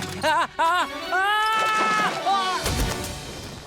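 A cartoon sheep from the Fireman Sam children's series bleats loudly and close: two short, wavering bleats, then a longer drawn-out one and a brief final bleat, followed by a crashing thud.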